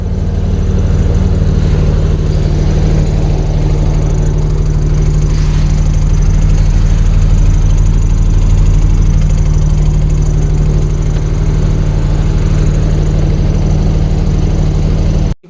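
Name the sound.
diesel generator running, sounding like a tractor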